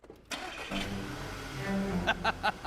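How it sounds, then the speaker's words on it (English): A car engine cranking and catching in an online driving game, Forza Horizon style, with a low running hum and a few brief sharper bursts near the end. "But now we also have to turn the car on."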